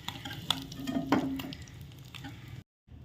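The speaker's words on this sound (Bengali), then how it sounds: "আমার এটা মাছ ভাজা হইতেছে" Pabda fish fry in hot oil with a close, steady sizzle, punctuated by scraping and stirring clinks from a utensil against the pan, before the sound cuts out briefly near the end.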